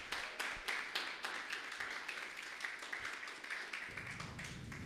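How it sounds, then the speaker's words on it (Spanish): A church congregation applauds in praise of Christ, a steady dense patter of many hands clapping that carries on for several seconds at moderate loudness, with a low rumble underneath and a brief swell near the end. "Un aplauso a Cristo."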